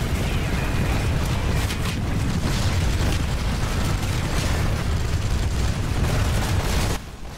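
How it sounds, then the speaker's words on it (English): Grenade blasts in the game PlanetSide 2, a dense loud rumbling boom that fills the whole stretch and then cuts off abruptly near the end. "3 kills with a grenade"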